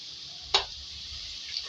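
Potatoes and cauliflower fry with turmeric in a pan for dhaba-style aloo gobi, a steady soft hiss of sizzling oil broken by one brief stirring clack.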